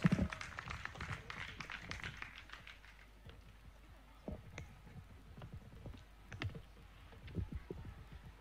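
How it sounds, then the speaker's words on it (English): Applause from an audience welcoming Professor Mwambutsa Ndebesa of Makerere University at a Nyerere memorial conference, dense clapping at first that thins to scattered claps and fades out. "Let's welcome him with a round of applause."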